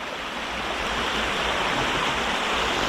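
A Scottish river rushes around a bend past big rocks, a steady, close, full roar of flowing water with no voices.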